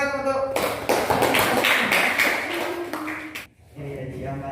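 A group applauds during an Islamic religious teaching session, a burst of clapping lasting about three seconds before it cuts off and quieter voices continue.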